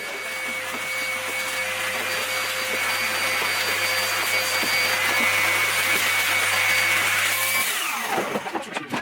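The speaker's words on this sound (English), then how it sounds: "Here comes the vacuum." A vacuum cleaner roars steadily at close range, loud and constant, then winds down and cuts off near the end.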